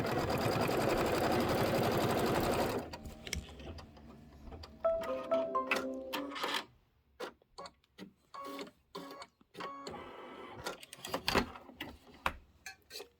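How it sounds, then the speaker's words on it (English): A sewing machine stitches trim for a Kimberbell sew-along project, starting with a loud continuous run, then breaking into short bursts of stitching with quiet gaps and clicks between them. "So we're going to sew these down first."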